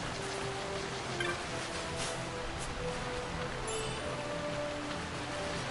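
Steady rain falls in Final Fantasy XII, a continuous even hiss with soft patter, unbroken and alone with no voices over it.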